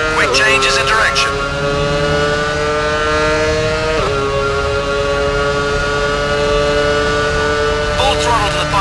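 A Formula One car in the F1 Championship Edition video game races out of the Curva Parabolica at Monza, its engine whining loudly and climbing through upshifts with sharp pitch drops, steady and close throughout.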